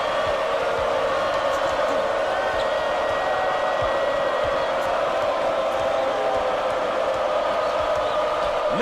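Arena crowd noise from the College Basketball 2K8 video game, a steady, loud roar of cheering spectators filling the whole stretch without pause, with faint game sounds mixed in underneath.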